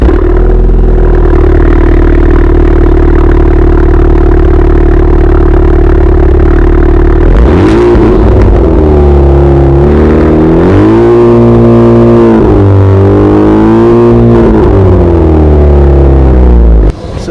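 A 2019 Honda Civic Type R with a Remus 3-inch exhaust idles loudly and steadily, then revs several times in rising and falling swells, close and powerful.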